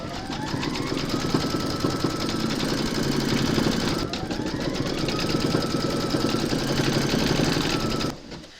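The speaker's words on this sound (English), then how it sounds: "pop your hoop into your machine and stitch round number 3 to secure it" An embroidery sewing machine stitching a round on a hooped fabric project for reindeer slippers, giving a loud, steady rapid mechanical chatter with a continuous motor whir that stops abruptly near the end.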